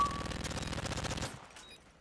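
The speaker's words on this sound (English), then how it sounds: "I'm shooting." Rapid video game gunfire rattles out in a quick automatic burst for just over a second, then stops suddenly, leaving a faint quiet tail.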